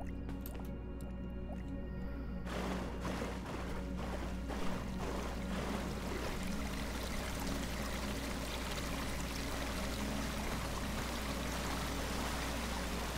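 Flowing water in the video game AER runs as a steady, full wash that doesn't break, with a few faint drips and clicks near the start.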